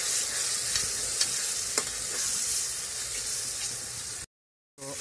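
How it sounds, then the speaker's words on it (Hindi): Tomato paste, green chilies and spices being stirred into a sizzling chickpea curry in a hot pan, with steady loud frying hiss and occasional spoon scrapes, then a brief silence near the end. "डालेंगे टमाटर का पेस्ट, हरी मिर्चें, तमाम मसाले डाल कर अच्छी तरह से मिक्स कर लेंगे।"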